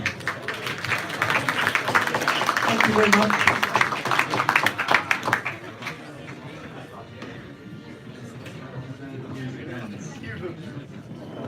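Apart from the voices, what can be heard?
audience applause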